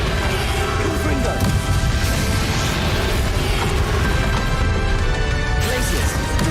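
Blasting spell impacts in the Hogwarts Legacy video game crash and smash continuously at close range, layered with splintering debris and dense battle noise throughout.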